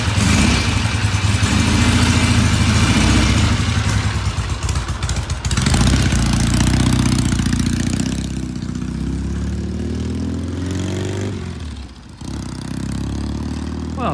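A vintage British motorcycle on a test ride, its engine loud and rough as it revs through the gears, with surges and dips in pitch, a brief stumble near the end, and the machine gradually pulling farther away.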